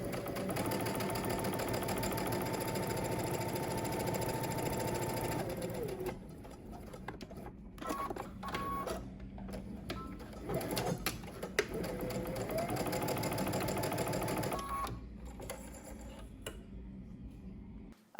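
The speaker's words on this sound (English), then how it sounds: "you're going to do 2 rows of gathering stitches on each side seam of the upper collar" A home sewing machine stitches two rows of gathering stitches along the side seams of an upper collar piece. It runs steadily in long continuous bursts with a brief pause in the middle, close and alone with no talk.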